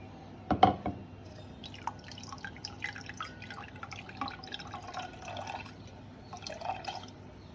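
Blended amla and mint juice strained by hand, giving a steady patter of drips and trickling liquid, close and fairly quiet, with a soft splash near the start and no talk.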